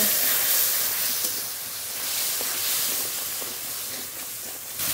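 Spice paste with turmeric, salt and spiced water frying in oil in a pan for a silver carp curry, a steady close sizzling hiss running the whole time with no talk.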